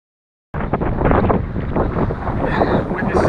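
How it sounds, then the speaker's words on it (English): Strong wind on a mountain track in New Zealand's Gillespie Pass circuit starts abruptly after a moment of silence, then roars as loud, continuous microphone buffeting with gusty surges throughout. "Weather's turning pretty bad. It's getting very windy."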